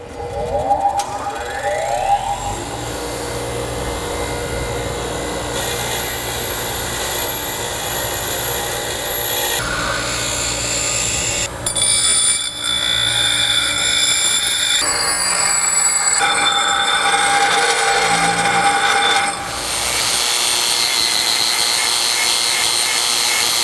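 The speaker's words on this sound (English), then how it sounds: "Bench grinder." A bench grinder runs loud and steady throughout while parts for Ford Fox Body frame connectors on a Fairmont are ground, its high whine shifting in pitch as the workpiece is pressed and released, with brief dips near the middle.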